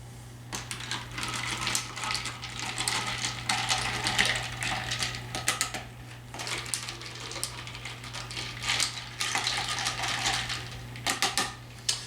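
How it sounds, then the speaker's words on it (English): Ice and liquid clinking and rattling inside a glass as a Wisconsin Old Fashioned cocktail is stirred, a steady close-up clatter of small knocks throughout, with a low constant hum underneath. "we're going to stir it up really well."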